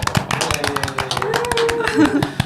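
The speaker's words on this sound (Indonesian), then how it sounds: "Tepuk tangan dulu dong" A small audience claps for guests at the start of an interview about tourism studies, quick uneven hand claps heard close and overlapping with voices talking.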